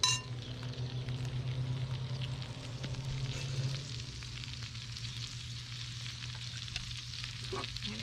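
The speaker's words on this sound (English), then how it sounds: "See, it's already sizzling." Sauce sizzling in a pan over an open fire, a steady close frying hiss with a low hum beneath and occasional faint clinks of a utensil.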